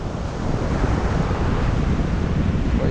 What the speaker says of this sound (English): it's a bit windy, but listen.